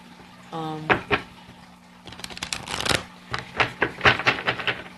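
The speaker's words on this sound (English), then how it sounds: "I'm just gonna shuffle this a couple more times" A deck of tarot cards is shuffled several times, with crisp riffling bursts and soft slaps as the cards are bridged and tapped together, close to the mic against a low hum.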